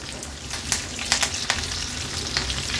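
Curry leaves crackle and sizzle in hot oil for a tempering with garlic, mustard and cumin seeds, a loud close steady fry with sharp pops scattered throughout.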